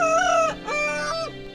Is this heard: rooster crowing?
yes